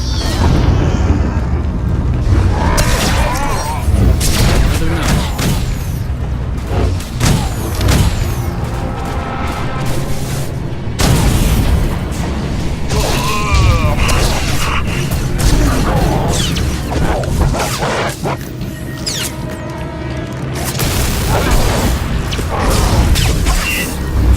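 In a Star Wars video game, generators detonate as a dense, continuous roar of booming explosions and crashing mechanical noise. The sound stays loud throughout, with heavy low rumble under repeated blasts.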